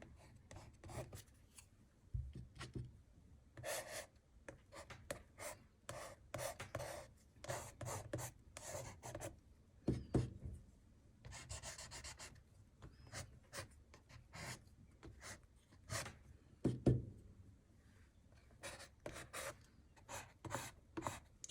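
An old credit card scratches through wet paint in expressive mark making, producing repeated close, gritty rasping strokes in irregular bursts that continue throughout.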